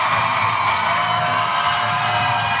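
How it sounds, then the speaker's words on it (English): Fans at an NHL team's arrival as the players step off the plane, a sustained roar of cheering and high-pitched shouting from a sizable crowd, steady and fairly close throughout. "Crowds are erupting. The fans are already going crazy."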